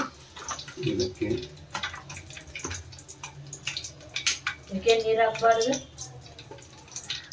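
Water is poured into a pot while vegetable pulao cooks with mustard seeds and curry leaves, a brief gurgling splash amid kitchen clatter and people talking.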